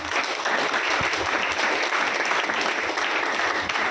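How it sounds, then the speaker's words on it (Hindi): Workshop audience clapping in a room, dense steady applause at full strength from start to finish with no talk over it. "एक बार जोरदार ताली होनी चाहिए"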